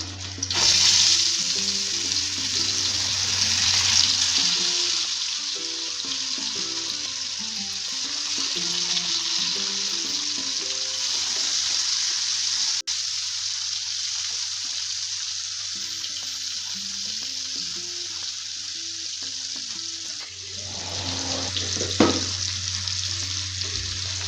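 Mackerel and prawns frying village-style in a pan give a loud, continuous close sizzle that swells near the end, with soft music faintly underneath and no talk.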